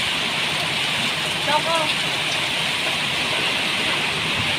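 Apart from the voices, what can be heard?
heavy rain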